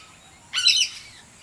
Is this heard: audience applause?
no